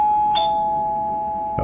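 A doorbell rings inside a quiet house, a single steady electronic chime tone held clearly through the moment with a brighter accent partway in and a faint knock-like thump at the end.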